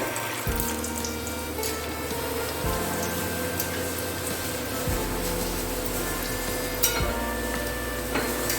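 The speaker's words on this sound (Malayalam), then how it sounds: "അടുത്തത് കപ്പലണ്ടിയാണ് ഫ്രൈ ചെയ്യുന്നത്." Peanuts frying in hot oil for a spicy homemade Kerala mixture, giving a steady close sizzle and bubbling throughout with occasional clinks and stirring scrapes, no voices.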